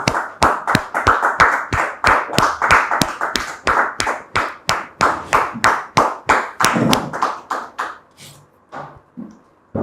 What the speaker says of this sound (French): On les reçoit par des applaudissements, comme on sait si bien le faire, sur ce plateau